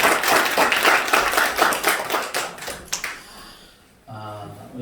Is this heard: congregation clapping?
yes